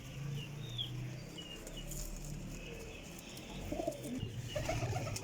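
Pigeons kept by a fancier coo softly and repeatedly against a low background murmur, with a few brighter calls toward the end, close and fairly faint.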